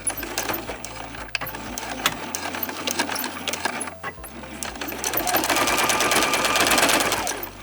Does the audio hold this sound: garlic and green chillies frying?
no